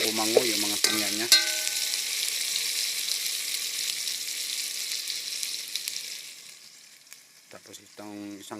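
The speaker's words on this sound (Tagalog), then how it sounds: "Ginigisan nyo muna yung mga samya." Aromatics sauté in a pan for a hasa-hasa fish dish, a steady broadband sizzle with scraping stirs, thinning toward the end as a brief voice speaks at the start and close.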